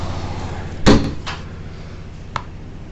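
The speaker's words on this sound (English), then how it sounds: "let's close that door" A door in a classroom setting swings shut with one solid thump, then two lighter knocks and clicks from the latch and frame settle after it, with no voices.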